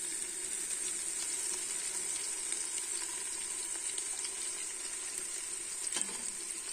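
Ginger and garlic roast in a pan while rice with vegetables is being cooked, giving a steady, fairly quiet sizzle and hiss that carries on evenly with no talking.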